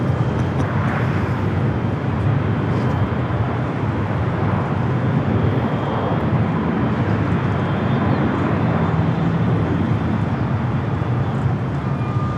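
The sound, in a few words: aircraft taxiing at Los Angeles LAX airport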